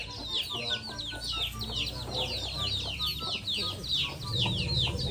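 Several chickens clucking and chattering nearby, a steady flurry of overlapping calls with some background voices mixed in.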